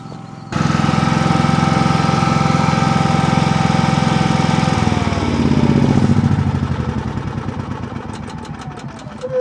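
Pulsar PGD95BiSCO 9500-watt inverter generator engine starting and running steadily nearby, a loud continuous drone with a dip in pitch partway through, then settling to an even hum with faint clicking near the end.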